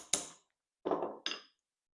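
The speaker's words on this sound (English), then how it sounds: "I take the hammer and I hit it backwards" A hammer strikes leather on a shoe last during toe lasting, landing three dull thuds, one alone and then two close together, each short and fairly near.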